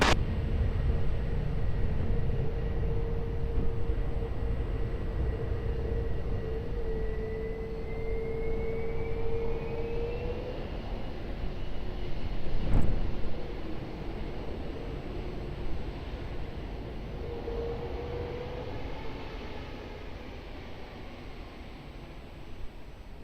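An EasyJet airliner departs runway 20 at Lisbon Airport, its engine roar a steady broadband rumble from a distance that rises slightly midway, with a faint tonal whine sliding upward beneath it.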